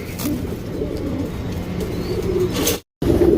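Female breeding pigeons at a pigeon seller's in Bangalore coo steadily and close by, with light chirps and a brief drop to near silence just before the end.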